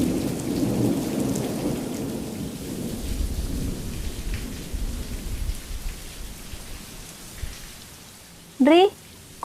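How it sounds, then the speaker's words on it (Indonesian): Heavy rain pours steadily with deep rolling thunder rumbling through the first half, the storm sound continuous and fairly close, ending with a brief sharp rising tone near the end. "Lo gak lihat hujan deras gitu? Kayak badai."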